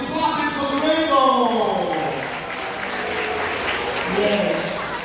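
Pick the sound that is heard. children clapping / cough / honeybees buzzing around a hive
children clapping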